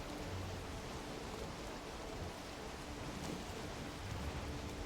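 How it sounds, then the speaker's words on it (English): Rain pouring over the ocean in a video game, a dense, even hiss of falling water that holds steady throughout with no voices. "Yeah, it is raining in ocean."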